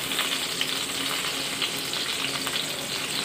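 Garlic fries in a hot pan for ginataang kalabasa, a steady close crackling sizzle with bright pops scattered throughout and no talking.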